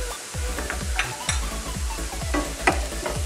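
Chilli powder and black pepper powder roast and sizzle in a pan for a squid roast, with close, repeated scraping strokes of stirring over a steady frying hiss.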